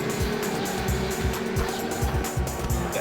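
Race car engines roar in a Le Mans 24 Hours racing game with Porsches and Vipers on track, a constant loud drone with repeated rising and falling gear-change sweeps and a faint tyre hiss, with no voices.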